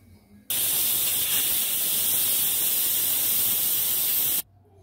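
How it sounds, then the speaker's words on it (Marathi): A pressure cooker whistle blasting steam during veg pulao cooking: one loud, continuous hissing release lasting about four seconds, starting and stopping abruptly, with no voices over it. "याला 3 शिट्ट्या येऊ द्यायच्या।"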